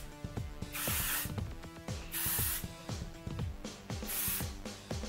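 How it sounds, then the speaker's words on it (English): Hairspray spritzed onto freshly curled hair, three separate hissing sprays with clicking and rattling handling sounds between them, close and clear with no talking. "I quick spritz it with some hairspray"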